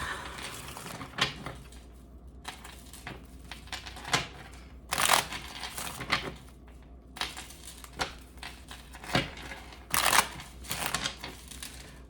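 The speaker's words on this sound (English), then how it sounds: "One more shuffle." Tarot cards are shuffled close by in quiet bursts of crisp riffling and soft slaps, repeating several times with brief pauses between them.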